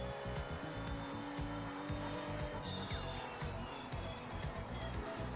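Race car engine and tire squeal from the Project Motor Racing video game, heard as a steady, fairly quiet mechanical drone with scattered skid noise throughout, with no speech.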